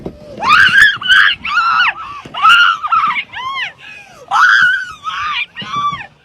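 A woman shrieks in terror on an alpine slide, her loud, piercing screams coming in repeated bursts with short gaps between them, close and unaccompanied.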